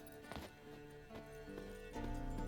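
A horse's hooves clip-clop at a walk in The Witcher 3, with a faint whinny, all quiet and somewhat distant against a soft game background.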